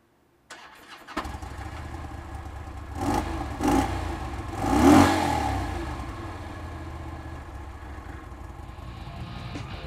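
A 2007 Harley-Davidson FLHRS Road King Custom motorcycle engine starts, then revs up in a few rising swells before settling into a steady, rumbling idle, close and alone.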